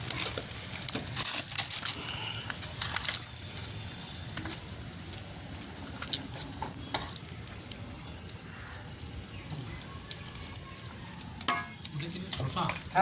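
Chicken chaap fries in a pan at a family picnic, with a steady sizzle broken by repeated scraping and stirring clatter, close and moderately quiet.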